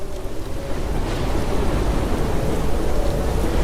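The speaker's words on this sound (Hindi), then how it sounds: "ये तो कितनी जोर की बारिश होने लगी" Heavy rain pours down in a dense, continuous roar, with low rumbling thunder rolling underneath throughout.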